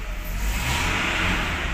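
Toyota Hilux engine revving steadily as the accelerator is pressed, a close, continuous mid-pitched roar with no talk over it.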